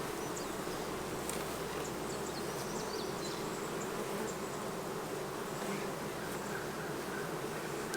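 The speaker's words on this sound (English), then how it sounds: "Alright, we're going to smoke these bees up." Honey bees swarm around an open hive in summer, a dense, continuous buzzing that stays steady and fairly loud throughout, with individual bees occasionally whizzing closer past the ear.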